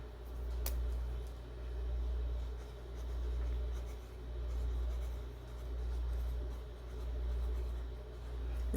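A Paper Studio Twin Tip Fineline marker moves across paper in slow, steady strokes, each swell of scratchy writing repeating about every second under a low background hum.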